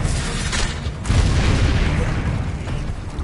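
A Confringo blast spell explodes in the Hogwarts Legacy video game as a loud, deep boom with a rumbling tail, then a second burst about a second later, with no voices.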